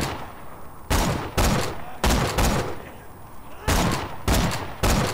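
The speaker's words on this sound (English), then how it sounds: "I can snipe him from here" Sniper rifle fire in the shooter Borderlands 2: loud, separate blasts in irregular pairs and singles over about five seconds, each with a short ringing tail, against a quiet backdrop of game ambience.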